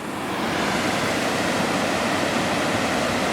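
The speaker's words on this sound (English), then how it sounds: "I've made it to Montana Cascades" The Montana Cascades waterfall in Tasmania rushes steadily, a dense, constant roar of falling water heard close and loud without a break and with no voices.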